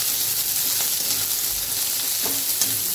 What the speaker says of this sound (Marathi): 2 कांदे कट करून घेतलेले ते आपण ह्याच्यामध्ये टाकून घ्यायचे। हे पण छान परतून घ्यायचं आपल्याला।